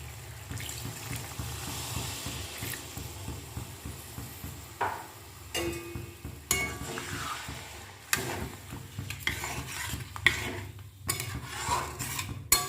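Water poured into a pot of sautéed chicken gravy, with a wet splashing pour and sizzling, spoon scraping and pot clatter throughout, close by and without talk.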